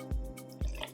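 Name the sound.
cocktail mixture poured into a Boston shaker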